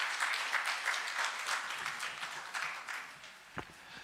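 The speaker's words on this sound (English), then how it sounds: "Let's give a hearty round of applause for His Excellency Honorable Kenneth Lusaka" Audience applause at a business ecosystem summit in Kisumu, Kenya, greeting a county governor. Steady, moderate clapping from a seated crowd fills the whole stretch, with a single sharper clap standing out near the end.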